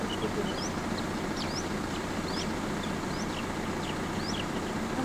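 An Indian roller gives harsh, short calls every half second or so over a steady rumble of engine and wind noise, fairly distant and not very loud, near Udumalpet, India.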